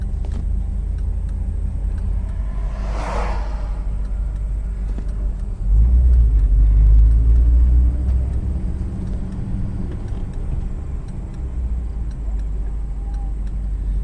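A 1959 Chevrolet Bel Air driving along a rural road with the engine rumbling, a louder surge of low engine noise midway as gears are shifted, then settling back to a steady cruise.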